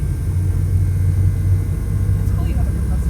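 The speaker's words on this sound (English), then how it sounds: "I have to inflate the tires a little bit to drive on the main road." An air compressor inflating van tires hums as a low, steady rumble, loud and continuous throughout, close by in the back of a van.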